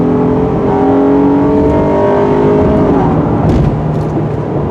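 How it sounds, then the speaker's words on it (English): A 2022 Honda Passport TrailSport's 280-horsepower engine pulls steadily under acceleration, a loud continuous drone rising in pitch with road noise underneath, heard from inside the cabin. "Listening to that Honda racing technology coming through under the hood."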